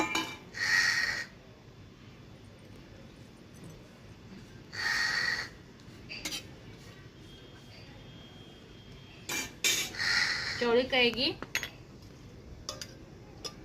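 A cooking pan is handled and set down on a traditional wood-fired stove, producing a few separate metallic clanks and scrapes with quiet pauses between them, close and moderately loud.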